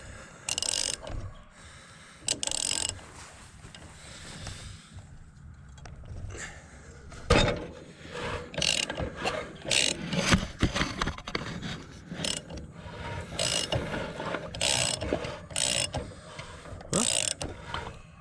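Small rebuilt engine on a Manco Dingo being turned over by hand, giving irregular ratcheting mechanical clicks and clanks in bursts, close and fairly loud, with no speech.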